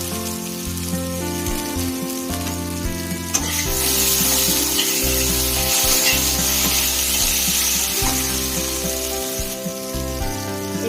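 Pumpkin and potato pieces frying in a pan with raw chickpeas added partway, giving a steady loud sizzle with stirring scrapes throughout and a burst of fresh sizzling as the chickpeas go in.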